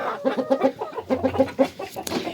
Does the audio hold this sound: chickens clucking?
yes